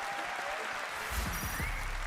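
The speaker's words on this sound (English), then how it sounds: "Let's give them all a big one round of applause before they start" Applause from an audience at a Gran Turismo World Series Nations Cup event swells up partway through, a crowd clapping steadily after a quieter stretch.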